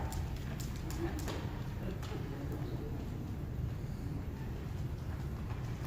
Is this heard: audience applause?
no